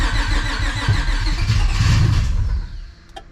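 A V6 stroker engine swapped into a Honda Civic cranks and sputters, trying to catch without fully starting, a loud chugging rumble for about two and a half seconds before cutting off, with a faint click afterward.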